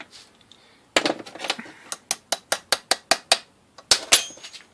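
A bolt hammered into a stripped aluminum hole packed with copper wire, heard as a steady series of about a dozen sharp, ringing metallic strikes at an even rhythm, loud and close, with a couple of harder final blows.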